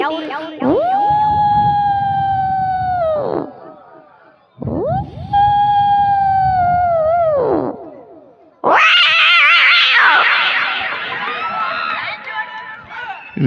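A human voice imitates fighting cats with three loud, drawn-out yowls, the last one harsher and more strained.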